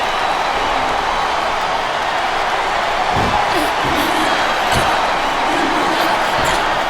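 Arena crowd noise in WWE SmackDown vs. Raw 2007 on Xbox 360, a wrestling match between Mickie James and Trish Stratus: a steady, loud roar of a capacity crowd with scattered thuds, continuous throughout.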